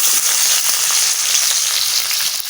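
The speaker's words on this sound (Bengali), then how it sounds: "সর্ষের তেল দিয়ে দিচ্ছি নারকেল দেখো কুচো হয়েছিলাম মিক্সিতে পেস্ট করবো করে ওই নারকেল আমি ভাজা করে দিচ্ছি" Grated coconut sizzles as it fries in hot mustard oil in a home kitchen, a loud, steady hiss and crackle with faint stirring, and no one speaks.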